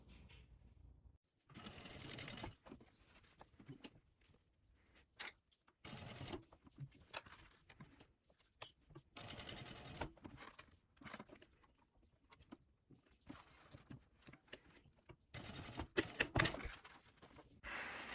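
A sewing machine stitches around a fabric binder cover bag in repeated rapid whirring bursts of varying length, separated by short silent pauses. Nearby and clear, with no talking.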